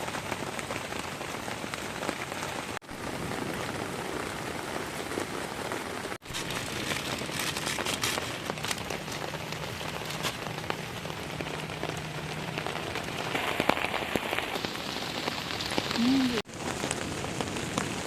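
Heavy rain pours without pause onto a tent and tarp at a beach campsite, a dense, even hiss of close drops that fills the whole stretch with brief dull knocks.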